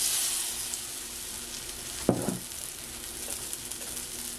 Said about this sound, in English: I'm gonna fry our little bean cake